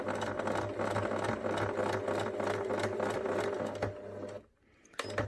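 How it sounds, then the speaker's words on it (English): A sewing machine runs in a steady, close mechanical whir while stitching fabric around the ear of a memory bear, stopping briefly near the end before starting up again. "Needle down, lift the foot, and sew again."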